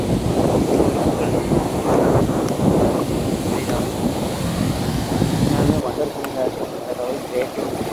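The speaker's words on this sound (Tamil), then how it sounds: "எனக்கு முன்னாடி கடல் தான் இருக்குது." Sea waves and gusting wind on the Goa coast make a loud, continuous broadband rush with heavy wind buffeting on the microphone, and a voice speaks over it.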